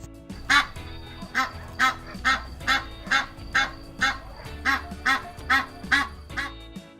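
A gander honks over and over in a steady rhythm in a village farmyard, about a dozen loud nasal calls close by, with a faint hum underneath.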